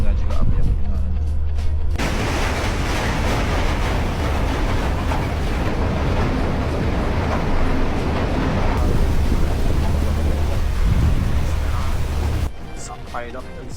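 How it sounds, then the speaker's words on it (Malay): A ferry crosses frozen sea toward Suomenlinna off Helsinki, Finland, giving a loud, steady broadband roar of hull and engine working through ice for about ten seconds, with wind noise. It starts and stops abruptly and is quieter at either end. "Kita akan melalui Laut Beku and aku akan cuba rekod macam mana bunyi dia"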